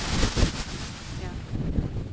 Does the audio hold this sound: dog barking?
no